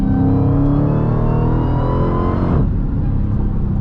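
A Dodge Challenger SRT Demon engine with a torque converter automatic roars loudly at full throttle, its pitch climbing steadily before a sharp drop at a gear change, then building again.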